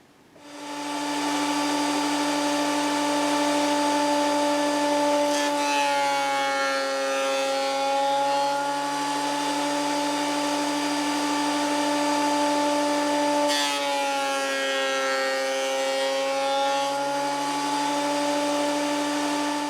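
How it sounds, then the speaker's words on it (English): Planer thicknesser and jointer milling guitar body wood, a loud continuous machine whine with steady tones that runs the whole time, with two brief changes in pitch as boards pass through the cutter. No talking. "So planer thicknesser and more jointing and milling."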